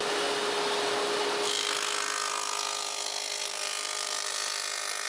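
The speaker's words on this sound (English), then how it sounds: "Now I can cut the rabbet." A table saw fitted with a dado head cuts a rabbet in wood, giving a steady, close, loud whirring cut that shifts in tone partway through as the blade works the board, with no talking.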